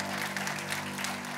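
A church congregation claps in praise, a brief steady burst of applause heard fairly faint over a low, sustained hum.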